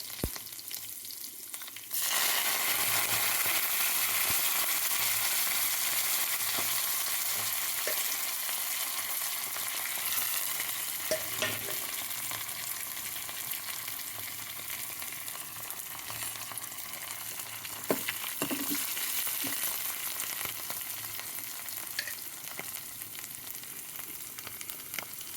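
Spices for a tempering sizzle steadily in hot oil as seasoning for pachi pulusu, a loud continuous frying hiss starting after a brief quiet moment, with occasional stirring clinks and pops.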